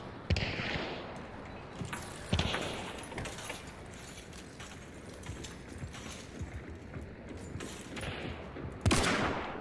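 A few sharp gunshots from the Vetterli Cyclone rifle in Hunt: Showdown crack out at irregular moments over a low, rumbling game background, fairly faint overall.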